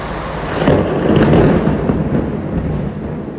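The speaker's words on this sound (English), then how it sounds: "The sound of the lightning I am feeling very clear" A deep, rolling rumble of thunder swells and slowly fades, loud and broad, with no voices over it.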